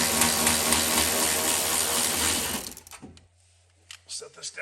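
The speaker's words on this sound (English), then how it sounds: "take an 11mm socket and remove the bolt holding the latch mechanism down" Rapid mechanical whirring and clicking of a socket ratchet with an 11mm socket loosening the latch mechanism bolt on an OBS Ford or Bronco door, loud and continuous, then stopping abruptly, followed by a few faint handling clicks.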